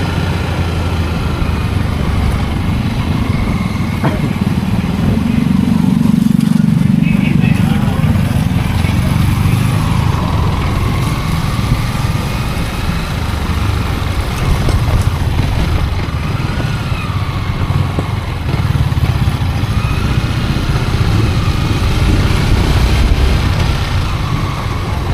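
A motorcycle engine runs continuously on a rough road, a steady close-up drone with bumps and rattles throughout, while people talk intermittently over the noise.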